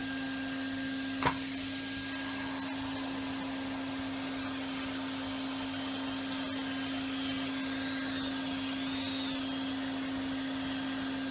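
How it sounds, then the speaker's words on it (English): A toy Henry Hoover vacuum cleaner runs with a steady, thin motor whine and hum, constant and close, after a brief knock near the start, with no talking. "Come on then, Charlie, let's see if we can hoover this up"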